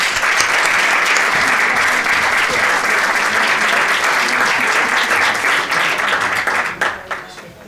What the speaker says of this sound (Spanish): un fuerte aplauso para el Quinteto de Viento Divertimento